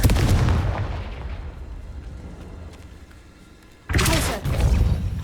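A Confringo blasting spell cast in the Hogwarts Legacy video game, two loud booming bursts, one at the start fading into a rumble and another a few seconds later, with no talk.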